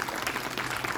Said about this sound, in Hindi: पूरी पंचायत का भी भाई जोरदार तालियों के साथ एक बार स्वागत